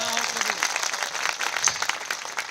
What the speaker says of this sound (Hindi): एक अच्छी ताली प्रभु के लिए बजाएंगे